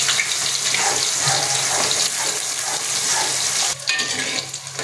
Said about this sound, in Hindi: यहाँ पे तेल गर्म होते, तो यहाँ पे ऑनियन डाल दिए हैं हमने।